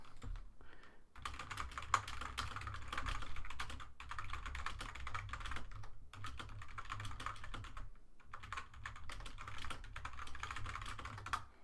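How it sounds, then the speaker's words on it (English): Steady typing on a computer keyboard, with rapid clicking keystrokes in several runs separated by short pauses, fairly quiet. "I just need to type something."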